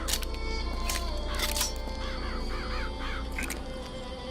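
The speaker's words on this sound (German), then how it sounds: "die sind noch zusätzlich abgelenkt, während die Krähe sie attackieren" Crows caw harshly in BioShock Infinite as they swarm and attack enemies, several rasping calls layered over a steady game background with brief clicking bursts.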